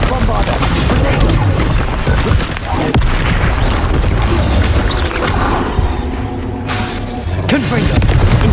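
Booming blasts of the Bombarda explosion spell in Hogwarts Legacy ring out amid loud crashing and clattering game effects, with a voice calling out over the din.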